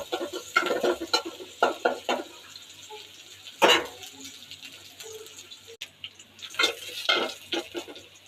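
Onions frying in oil with bay leaves and a clove in a pan, stirred with a utensil that scrapes and clinks in irregular bursts over a soft, steady sizzle, fairly close.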